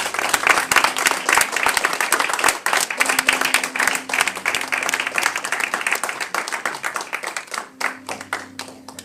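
A church congregation at a French healing service claps and cheers in praise of the Lord, steady, dense applause filling the room throughout.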